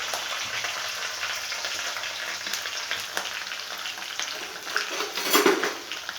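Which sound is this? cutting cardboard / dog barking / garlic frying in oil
garlic frying in oil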